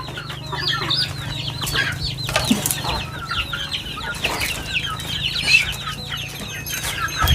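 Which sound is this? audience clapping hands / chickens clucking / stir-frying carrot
chickens clucking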